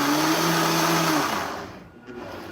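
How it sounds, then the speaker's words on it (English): A blender whirring through a slushy, loud and close with a high steady motor whine that winds down and fades out partway through, leaving near quiet before a faint bump. "I have not walked away and had my blender explode on me yet"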